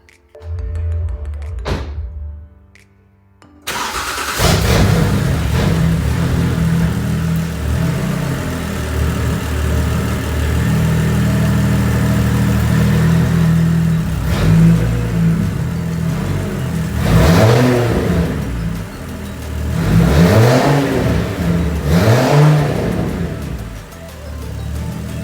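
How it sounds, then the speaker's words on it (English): A turbocharged BMW N52 engine cranks and fires up close, settles into a rough idle, then revs up sharply several times in rising and falling sweeps. "I know you guys probably want to just hear the car start up"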